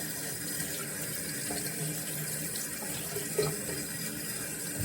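A bathroom sink tap runs steadily while a small mechanical part is rinsed under the stream, a constant close splashing hiss with faint clinks of the part against the basin.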